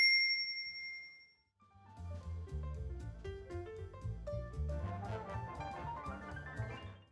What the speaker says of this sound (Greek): πατήστε το καμπανάκι και επιλέξτε να λαμβάνετε όλες τις ειδοποιήσεις